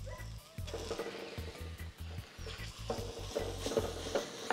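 Ground meat goes into a pan with a cooked chili-paste base and is stirred and broken apart, giving repeated scraping, knocking strokes of a utensil against the pan over a soft sizzle, with no talking.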